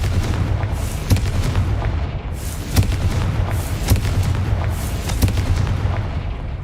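Fire-spell explosions in the game Hogwarts Legacy: a run of booming blasts roughly a second apart over a rumbling background, loud and repeated without talk.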